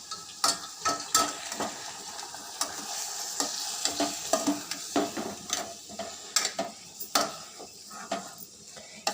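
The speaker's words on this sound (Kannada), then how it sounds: "ದೆನ್ ಈಗ ಇದಿಟ್ಕೊಂಡು ಫ್ರೈ ಮಾಡ್ಕೊಬೇಕು." Garlic and vegetables for a pasta dish fry in a pan with a continuous sizzle. Frequent scraping and clinking of a utensil against the pan punctuate the sizzle in an irregular stirring rhythm.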